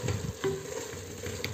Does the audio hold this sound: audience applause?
no